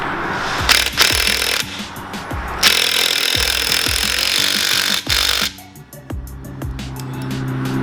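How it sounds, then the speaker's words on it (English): A power tool tightens a nut on the suspension of a 2017 Camaro SS 1LE while lowering springs are installed, giving a loud, close, rattling hammering drone with repeated pulsing strikes that eases off near the end. "We'll go ahead and tighten up this nut."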